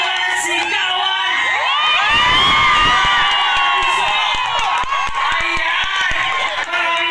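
A concert crowd at the Music Museum erupts in loud sustained cheering, shouting and high whoops that swell and hold for several seconds.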